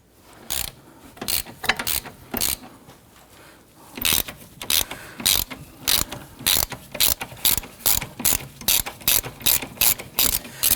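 A hand ratchet loosens a 12mm bolt on the rear brake flex hose of a 2017-2020 Hyundai Elantra during rear wheel bearing and hub work. It gives bursts of rapid close clicking, then a long steady run of regular strokes with no talk.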